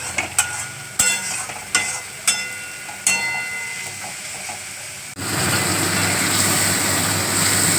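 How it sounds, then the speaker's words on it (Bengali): A curry base for doi potol is stirred in hot oil in a pan, with a few sharp scraping clacks of a spoon against the pan, then a loud, steady sizzle of frying takes over for the last few seconds. "এইটাকে এইভাবে নাড়তে দিয়ে কষিয়ে নিয়ে তারপরে পটল দেবো"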